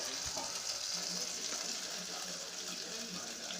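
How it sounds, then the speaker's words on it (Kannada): Jilebi fish tawa-frying on a hot griddle, a dense, steady sizzle at an even volume throughout, with faint background clatter. "ಜಿಲೇಬಿ ಮೀನಲ್ಲಿ ಫಸ್ಟ್ ತವಾ ಫ್ರೈ ಮಾಡ್ತಾ ಇದ್ದೀವಿ"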